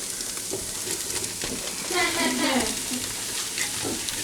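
Garlic and sausage sizzling in a darkened roux for shrimp gumbo, a close, soft, continuous frying crackle with a brief louder hiss as the ingredients are stirred through the pan.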